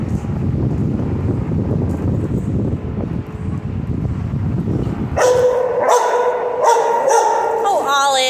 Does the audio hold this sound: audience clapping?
no